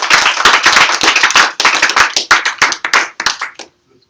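A small audience claps together at the start of a talk, a loud burst of hand claps that thins into scattered, uneven claps before fading out.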